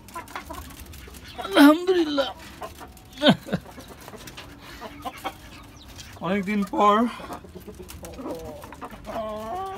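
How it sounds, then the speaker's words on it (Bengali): Native chickens cluck in short, irregular bursts close by, with a few louder calls standing out over a quiet farmyard background while a person speaks briefly. "দেশি মুরগি।"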